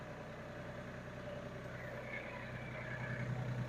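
An LS tractor's diesel engine idles and rumbles steadily up close as it slowly backs toward a detached backhoe, a constant low drone with a slight rise in load near the end.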